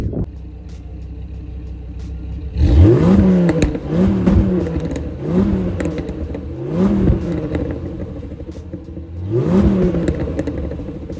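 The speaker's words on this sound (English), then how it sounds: "let's give you a little shot of the exhaust, see what it sounds like" A car engine revs hard several times, each rev swelling then falling back to a low idling rumble, close by with no voices.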